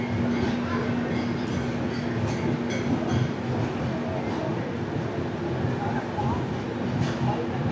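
Kerala Express rolling into platform 4 at Jhansi Junction, a rumbling train with steady wheel noise heard from inside, with a faint tonal hum and people talking over it.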